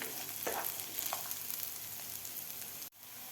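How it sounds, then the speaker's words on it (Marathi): Cashews and onion frying in a pan, a quiet continuous sizzle with occasional stirring scrapes, cutting off abruptly near the end before resuming softly. "आता हे सुद्धा आपल्याला एक ते दोन मिनिट व्यवस्थित फ्राय करून घ्यायचं आहे"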